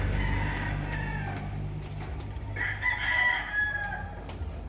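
Fighting cocks crow in a coop, with a couple of faint-to-moderate crows and clucks over a steady low rumble of background noise.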